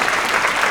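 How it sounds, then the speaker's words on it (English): Audience applause at a Quincy Public Schools holiday concert, a brief, loud burst of dense clapping from a large crowd filling the whole moment without pause. "can we have another round of applause for Ms. Garcia Pizarro?"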